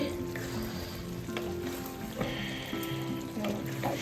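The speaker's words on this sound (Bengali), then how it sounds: "সুন্দর করে আরও কষাতে হবে মাংস" Coriander chicken sizzles loudly in a pan while being stirred and fried down, a continuous close crackle with scraping strokes and a faint tonal hum behind it.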